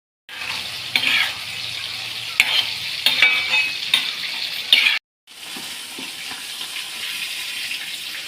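Food sizzles steadily in a pan while being stirred, a close, loud hiss with scraping spatula strokes, pausing once briefly before the frying resumes.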